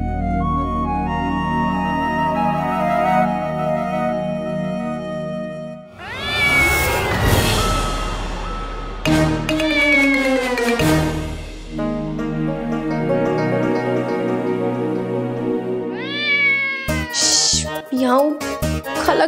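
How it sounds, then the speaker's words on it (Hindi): A cat meows and caterwauls in a complaining, drawn-out way, with several rising and falling cries mixed under music and talking voices. "खाला की बच्ची शिकायती बिल्ली, चुपचाप यहाँ पे पड़ी रहे, समझी?"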